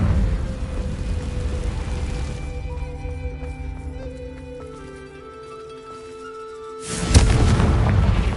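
Confringo spell explosions in a Harry Potter video game: a loud, sustained boom at the start, then a quieter stretch with tonal background sounds, before a second heavy blast near the end.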